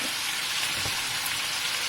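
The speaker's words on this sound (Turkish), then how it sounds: "her yerini çevire çevire kızartıyoruz" Steady, dense sizzling of chicken pieces frying in a hot pan as they are turned, a continuous crackling hiss with no voices.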